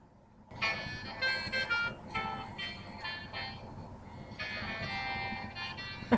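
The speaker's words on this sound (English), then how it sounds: "So here's my default ringtone." A phone's default ringtone plays as a repeating bright melodic chime with short phrases and pauses, fairly quiet and heard alone.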